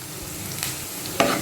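Ginger frying and being stirred in a pan over a medium flame for a Kerala sadya-style pulinji, a steady sizzle with two brief scraping stir strokes, close and alone.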